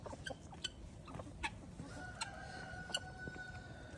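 A flock of chickens in winter clucks in short, scattered calls, faint and somewhat distant against a low background rumble.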